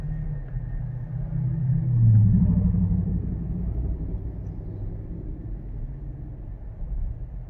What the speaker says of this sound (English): There's quite a bit of traffic leaving Gatlinburg.